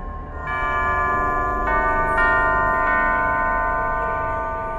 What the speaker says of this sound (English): Only by playing the correct sequence of bells can it be opened